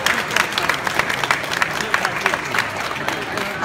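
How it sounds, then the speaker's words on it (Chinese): Audience applause at a Gunpla Builders World Cup 2015 award ceremony in Taiwan, a steady dense patter of many hands clapping continuously in a hall, moderately loud throughout. "所以我们是不是也给这位不在现场的评审一个掌声好吗？"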